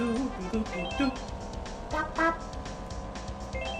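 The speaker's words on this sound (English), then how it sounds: "Honk, honk." An RC car in Donkey Kong 64 honks a short series of toots over game sounds, the horn repeating in quick bursts amid engine-like hum.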